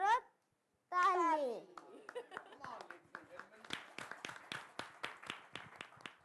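Young children clap in a group at a hand-washing campaign event, a quick run of sharp, fairly even claps building into a steady rhythm after a child's sung or chanted line.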